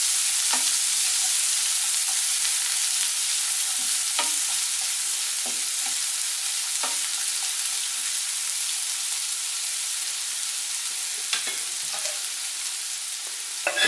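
Onions fry in a pan, a steady bright sizzle broken by scraping stirs every second or two, close and loud, with no talk.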